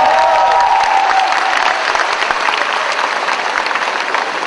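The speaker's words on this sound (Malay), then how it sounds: "Kepada penyokong-penyokong UiTM, kita berikan sekali lagi tepukan kepada" Sustained, dense applause from an audience at the final of a Malay-language university debate competition, steady and loud throughout with a faint crowd murmur underneath and no talking.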